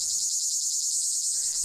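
Cicadas drone in a steady, high shrill buzz that holds without a break throughout, with faint low rumbles at the start and end.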